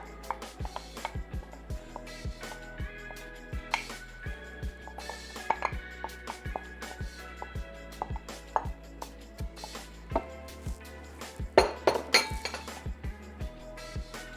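Sautéed garlic and onion drop into a blender jar among glassy clinks and knocks of a utensil against the container, a steady run of sharp taps close by, with no talk.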